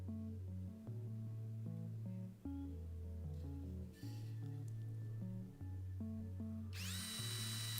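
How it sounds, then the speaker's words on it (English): A hammer drill bores holes for a pond ramp in steady bursts with brief pauses, its pitch stepping up and down, ending in a higher whine. "I've got a hammer drill here"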